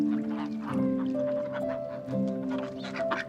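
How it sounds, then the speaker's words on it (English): A mixed flock of ducks and geese forages in an orchard, their quacks and honks overlapping in a steady, close, continuous chorus with no talking. "My flock of ducks, chickens and geese live and forage in the orchard"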